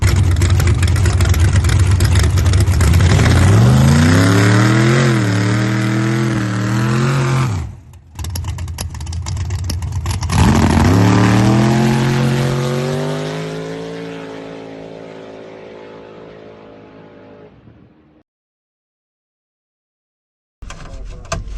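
A drag race truck making a pass, with a loud engine that revs up through several rising gear pulls, cuts off sharply, then pulls hard again before fading into silence and a faint noise at the end.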